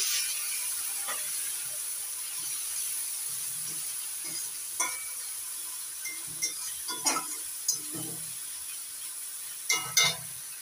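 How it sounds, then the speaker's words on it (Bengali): Spice paste with salt and turmeric being sautéed in a pan with a little water, a steady soft sizzle broken by occasional scraping stirs of a spoon, close and fairly quiet. "অল্প অল্প জল দিয়ে মশলাটা কষিয়ে দিচ্ছি"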